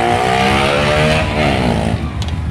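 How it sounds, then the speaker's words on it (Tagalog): A loud, noisy motorcycle engine roars close by during a New Year celebration, its droning pitch sliding down as it passes, with no talking over it. "Meron namang mamaingay na motor."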